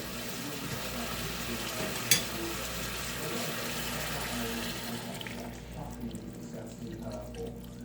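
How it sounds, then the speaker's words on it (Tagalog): Broth is poured from near over vegetables in a cooking pot, a steady liquid splashing and hissing that fades around the end, with a quiet voice in the background. "Lagyan na natin ng konting sabaw lang na kaya yung medyo matakpan na ng konti yung gulay natin"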